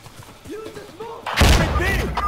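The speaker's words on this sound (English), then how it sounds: "I'm throwing a grenade!" A single loud, booming grenade blast in the Insurgency shooter game bursts out midway and rumbles on, following a stretch of players shouting.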